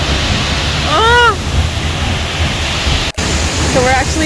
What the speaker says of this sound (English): So we're actually like behind the waterfall.